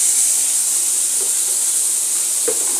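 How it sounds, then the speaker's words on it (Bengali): Bitter gourd pieces fry in a pan with salt and turmeric, giving a steady, close sizzling hiss with a couple of faint clicks near the end and no voices. "দিয়ে তখন একটু করলাগুলো ভাজা ভাজা দেবো।"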